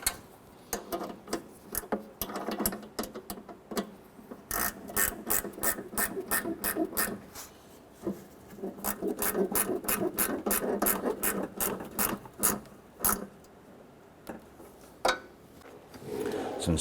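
A ratchet tightens the front engine mount bolts on a 2008-2012 Honda Accord, giving bursts of quick, close metallic clicking strokes with short pauses between them.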